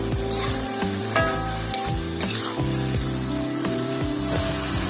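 Shredded smoked tuna sizzling as it goes into hot seasoning in a pan, a steady loud fry with scraping stirring clicks and no voices.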